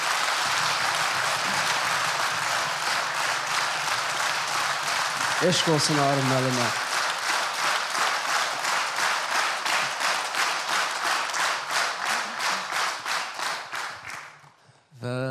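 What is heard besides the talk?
audience applause in honour of the master Arif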